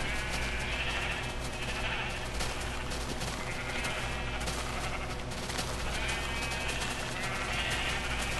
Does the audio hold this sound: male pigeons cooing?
no